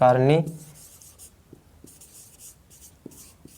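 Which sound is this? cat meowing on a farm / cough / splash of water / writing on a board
writing on a board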